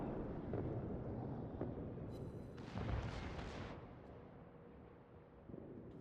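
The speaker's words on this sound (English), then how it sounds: "There are just a lot of secondary shells coming from the Bismarcks." Secondary guns of Bismarck battleships firing shells in the World of Warships naval game, a dense rumble of overlapping booms with a louder burst of blasts mid-way, continuous under battle noise.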